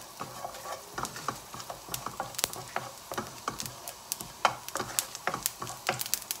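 Fennel and cumin seeds sizzling in hot oil for paneer curry, with sharp popping crackles and spoon taps scattered irregularly over a soft continuous fry, close and fairly loud.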